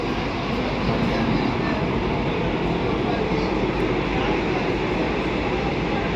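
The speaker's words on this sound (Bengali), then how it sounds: "এখন পাহাড়ের ভেতরে আছি, যাচ্ছে বন্দে ভারত" Vande Bharat express running through a dark mountain tunnel between Srinagar and Katra, heard from inside the carriage as a steady, loud broadband roar and rumble with no breaks.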